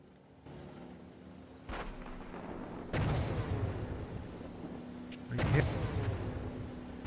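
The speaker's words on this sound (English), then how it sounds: "we're taking fire here" Heavy gunfire and booming explosions in a military tank-combat video game, with sharp blasts landing near 1.7, 3 and 5.5 seconds over a continuous low rumble, while radio-style voices talk throughout.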